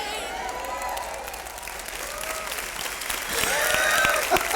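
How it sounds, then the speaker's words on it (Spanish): A church congregation applauds, swelling crowd clapping and cheering that builds toward the end while a preacher keeps talking over it in an excited, sing-song voice. "denle un fuerte aplauso al Señor"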